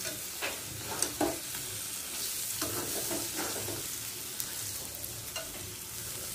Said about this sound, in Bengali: মুরগির গোশগুলো দিয়ে দেবো